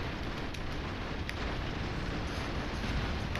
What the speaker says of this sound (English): I wonder if YouTube can handle all these explosions.